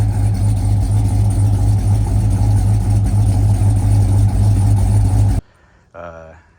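A 2007 Chevrolet Suburban with the 5.3L V8 idles on its stock exhaust and resonator, giving a loud, steady low rumble that runs unbroken for over five seconds before cutting off, followed by a brief voice.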